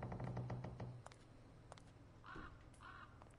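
Crows caw in the horror video game Remothered: Broken Porcelain, a few harsh repeated calls over a low rumbling background, with thuds and knocks early on and two clear caws later in the stretch.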